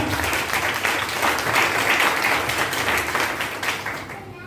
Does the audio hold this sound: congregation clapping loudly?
yes